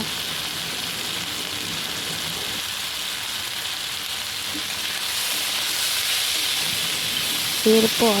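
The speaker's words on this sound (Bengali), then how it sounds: "চাউমিনের মশলাটা দেওয়া হয়ে গেলে একটু ভালো করে নেড়ে চেড়ে নেব" Chow mein sizzles steadily in a hot pan as spices are stirred through, a continuous frying hiss that swells slightly toward the end, with a brief spoken word near the close.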